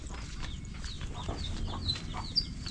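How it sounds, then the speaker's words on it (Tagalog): Newly hatched chicks peep in thin, high chirps scattered over a low rumble of background noise, several birds close by, faint and continuous. "Yun o, nakalabas na yung mga sisiw."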